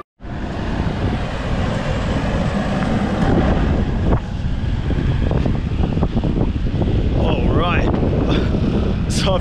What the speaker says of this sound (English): But you get a lot of wind out here, which is great